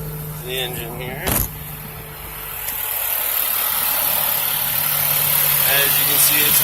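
Turbocharged engine of a 2007 Mazda Speed3 wagon idling with a steady close hum, under a brief passage of talk at the start.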